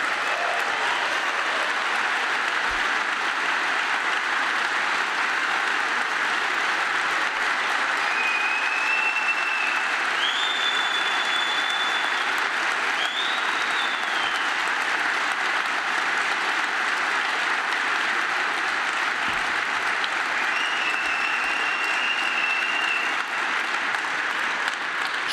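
Audience applause at a Hertha BSC football club members' meeting, a dense, sustained clapping from a large crowd in a hall that holds steady and loud for about twenty-five seconds.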